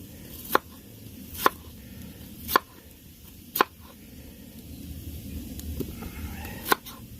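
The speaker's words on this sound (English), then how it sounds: "Cut up this tater." A potato being cut up at a campsite beside a fire: five sharp knife chops land at irregular intervals against a quiet outdoor background, near and distinct, with no talking.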